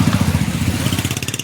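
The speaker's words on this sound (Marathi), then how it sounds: "हो मॅडमला मदत करतोय स्कूटी चालू करून द्यायला" A scooter engine cranks and sputters up close in heavy traffic at Hadapsar, a rapid rhythmic chugging that builds briefly but struggles, the scooter being nearly out of petrol.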